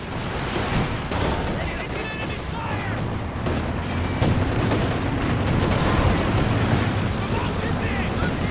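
Anti-tank gun fire in a Company of Heroes 2 multiplayer battle, loud booming shots and explosions over a dense, continuous din of gunfire with a commentator's voice running throughout.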